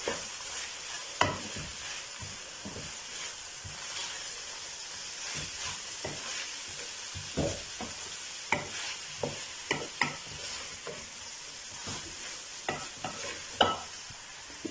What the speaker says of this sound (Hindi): हरे प्याज के पत्ते हैं वो भी शामिल करेंगे और 1 मिनट के लिए इनको भी जो है वो सौते कर लेंगे